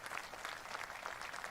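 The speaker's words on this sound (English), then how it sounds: "It's not a very resounding applause there." Thin, distant applause rises from a Republican National Convention crowd, a faint continuous patter of clapping lasting under two seconds with no voices on top.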